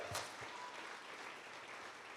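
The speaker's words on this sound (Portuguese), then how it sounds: "Dê uma salva de palmas a Jesus." Steady applause from a church congregation at a Christian conference, broadband clapping holding evenly throughout, with faint voices beneath.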